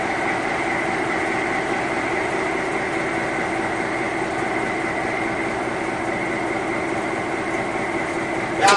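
A diesel locomotive idles with a steady, unchanging drone and a faint hum, loud and continuous throughout, with a brief sharper rattle right at the end.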